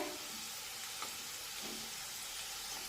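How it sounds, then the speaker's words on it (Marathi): Wheat flour dough balls for churma ladoo deep frying in hot oil, a soft continuous sizzle and bubbling with a couple of faint stirring clinks, fairly quiet and steady. "हे सर्व मुटके आपल्याला सर्व बाजूने व्यवस्थित तळून घ्यायचे आहेत"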